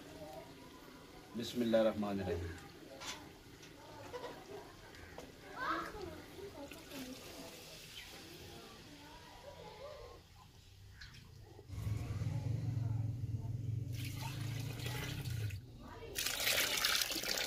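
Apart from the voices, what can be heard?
water being poured into a cooking pot for pulao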